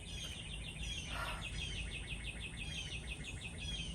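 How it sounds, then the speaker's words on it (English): Birds chirp outdoors in a repeating run of short, high, thin calls over a steady faint background hiss, moderately distant with no talking. "Listening to the birds chirp."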